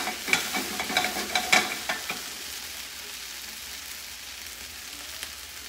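Okra stirred in a pot for a boxed 30-minute gumbo, a few scraping stirs over a steady close sizzle, with the stirring stopping early and the frying hiss continuing alone.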